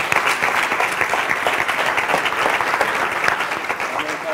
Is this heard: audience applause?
yes